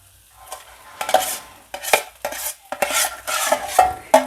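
A utensil stirs and scrapes food in a pan, giving a series of irregular scraping and clinking strokes with faint sizzling between them, close up and with no talk.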